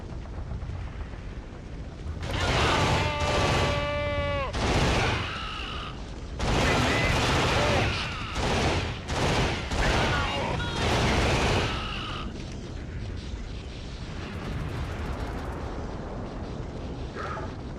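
Bursts of rapid automatic fire from a mini Gatling-style gun in a shooter game, loud and dense, arriving in several long volleys with short gaps and mechanical whirring, then a quieter tail; a voice talks throughout.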